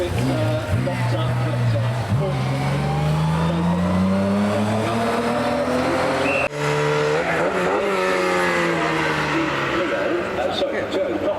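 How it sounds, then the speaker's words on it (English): Mini-bodied kit car climbing the Prescott Speed Hill Climb course, its engine revving hard through rising gear pulls with a brief tyre scrub, loud and close under a continuous commentator's voice. "It is a kit car. It's a mini."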